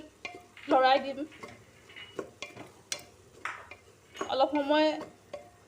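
Frying batter stirred with a spoon in a pan after baking soda is added, with intermittent scraping and clinking against the metal under a soft sizzle, while a person talks between the strokes.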